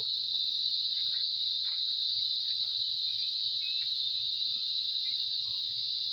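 Crickets chirp in a steady, unbroken high-pitched drone throughout in a wooded campus area, with faint scattered sounds of the surroundings underneath.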